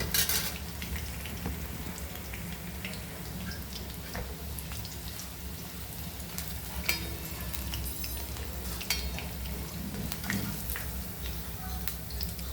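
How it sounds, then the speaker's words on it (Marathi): Soybean chilli bits frying in plenty of oil, a continuous crackling sizzle heard close up with scattered clinks and scrapes of a utensil against the pan and a low hum underneath throughout. "आता आपण ना मस्त तळून घेते ते अशी छान तळते"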